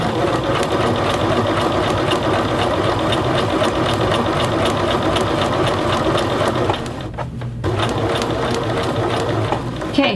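A sewing machine runs a long, steady basting stitch along a man's shirt sleeve, a continuous close mechanical whir that pauses briefly near the end before resuming.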